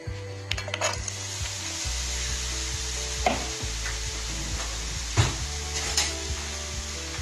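Carrots frying in olive oil in a pan, a steady close sizzle with occasional knocks and scrapes of stirring against the pan, and no one speaking.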